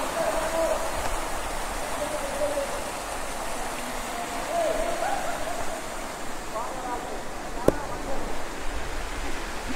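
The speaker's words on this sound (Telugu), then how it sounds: "This is the water fall." A waterfall at a scenic spot about 160 km from Hyderabad rushes in a steady, dense roar with no break, with faint voices now and then beneath it.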